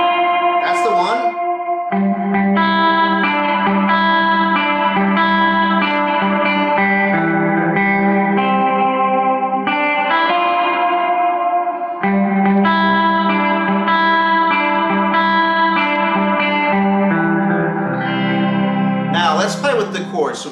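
A theme melody moving through a Neapolitan chord, played as a loud, dense, continuous passage of sustained harmonic tones with a brief shift midway and a bright flourish at the end, no speech.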